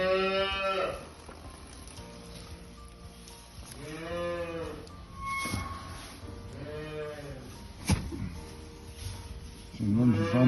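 A sick cow on a farm, recovering after being on a drip, moos several times in drawn-out calls, fairly close, with quiet farmyard background between them.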